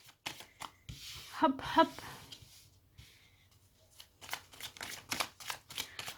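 Oracle cards for a tarot reading are shuffled in quick, close riffling bursts separated by pauses, fairly soft, with someone briefly speaking between the shuffles.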